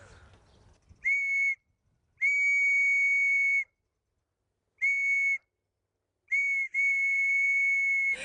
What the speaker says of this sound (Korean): 진짜 아무나 못 만드는 수제 호루라기.